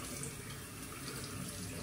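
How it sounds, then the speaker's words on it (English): Tap water runs steadily into a sink to wet a shaving brush, a constant, even splashing rush that is quiet and close, with no talk. "I'm gonna wet the brush"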